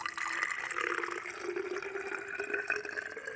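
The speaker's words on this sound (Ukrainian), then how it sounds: "заливаю водою по нашу мірку більшу половину" Water runs and splashes into a container holding potassium monophosphate fertilizer for tomato seedlings, a continuous filling sound with a rising liquid pitch, fairly quiet and close, with no talking.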